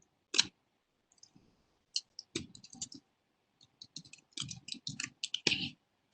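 Login details are typed on a computer keyboard in short, quiet bursts of close key clicks with small pauses between.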